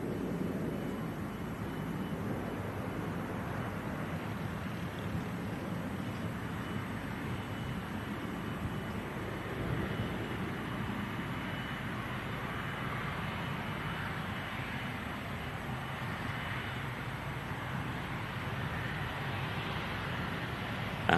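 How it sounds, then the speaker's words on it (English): A 24-year-old passenger jet arriving at Manchester Airport on a flight from Vienna gives a steady, moderately distant engine roar. It rumbles on evenly for the whole stretch with no voices over it. "Just completing flight LS 960 in from Vienna."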